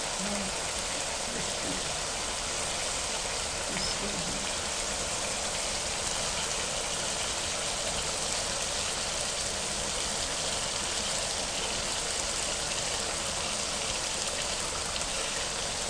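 Fish pieces sizzle in a tomato masala curry for a matar fish dish, a steady, even hiss of frying that fills the clip without pause and with no talking.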